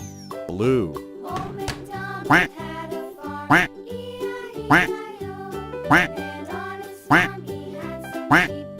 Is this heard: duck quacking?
yes